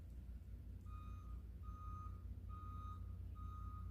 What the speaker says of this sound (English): You can hear the backup trucks.